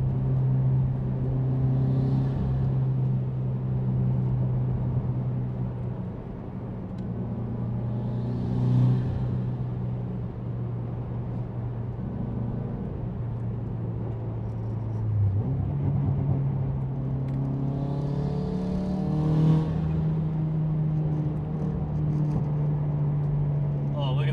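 A Subaru WRX STi with an FA20 engine and swapped STi transmission drives on backroads, a steady in-cabin engine drone that rises and shifts in pitch, with someone talking over it.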